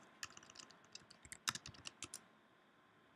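Quick, uneven bursts of clicking keys on a computer keyboard, close and fairly quiet, a steady run of taps ending in one sharper click, with no talking.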